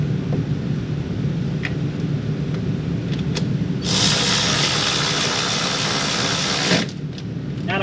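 An older electric ratchet whirs steadily during a 1998-2004 Volkswagen Passat B5/B5.5 electric fan replacement, a loud broadband buzz starting a few seconds in and running for about three seconds before cutting off, over a constant low engine-like drone.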